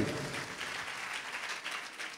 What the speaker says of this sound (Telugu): కొట్టు చప్పట్లు ఇప్పుడు ఒకసారి.